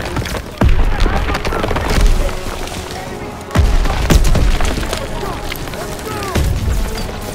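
Several heavy grenade explosions in Call of Duty: WWII battle, three or four loud booms spaced a few seconds apart over continuous combat noise and scattered gunfire, with soldiers shouting in between.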